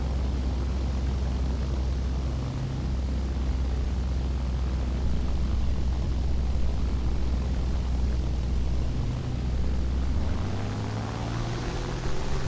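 Airplane engine in a flight combat game, a steady loud droning roar that runs throughout with low rumble and slight pitch shifts, no talk.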